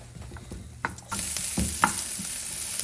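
Chopped onions cooking with a little salt in a hot pan for an Indonesian dish: a steady broadband sizzle kicks in partway through and holds, with scattered clicks and light scraping from stirring, fairly close and without speech.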